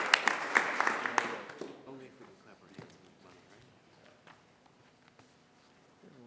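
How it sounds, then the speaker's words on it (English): Applause at a school board of education meeting, a short round of scattered clapping that dies away within two seconds, leaving quiet room noise with light shuffling. "Let's give them a hand of applause."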